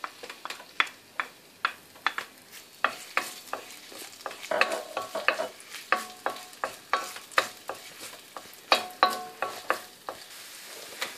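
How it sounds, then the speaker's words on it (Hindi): Repeated stirring clicks and scrapes over a steady sizzle of chopped ginger and garlic frying in oil in a pan, close and fairly busy, with no voices. "मैंने ये इसमें अब डालने लगी हूँ अदरक और लहसुन जो चॉप किया हुआ है"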